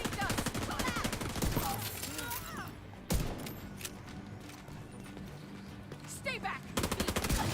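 Rapid bursts of automatic gunfire from The Division 2 rattle on and off throughout, loud and close, with a sharp crack partway through and in-game voices speaking over the shooting.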